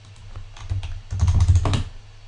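Keys clattering on a computer keyboard as the word hello is typed into a Unity developer console, a short close burst of quick clicks ending with a firmer final keystroke.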